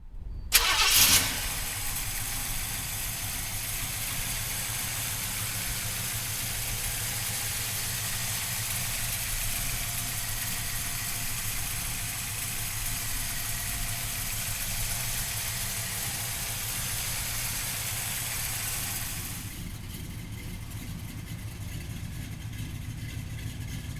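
A 1967 Chevrolet Chevelle convertible cranks briefly and starts with a loud catch. It then settles into a steady, rumbling idle for about twenty seconds, and the tone lightens slightly near the end.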